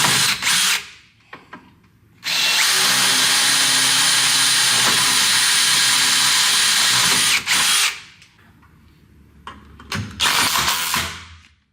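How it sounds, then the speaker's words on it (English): A power drill pre-drills holes in a sunroom frame, whirring loudly and continuously for about five seconds, with shorter bursts and handling noises before and after. "We're going to pre-drill holes"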